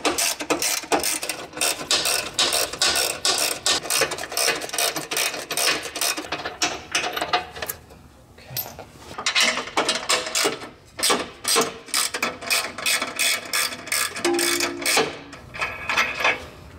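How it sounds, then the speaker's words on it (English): A ratchet with a 16mm socket spins nuts off the rear bumper bracket of a Jeep JL Wrangler, giving long runs of rapid, close clicking with short pauses between bursts. "we've got these 2 nuts that are securing the bumper itself to this bracket, and we're going to use a 16mm socket. Remove them now."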